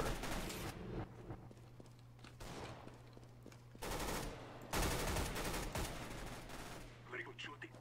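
Gunfire in a Counter-Strike: Global Offensive random-weapons match: several loud bursts of rapid automatic shots with short pauses between them, over a steady low hum, with occasional voices talking.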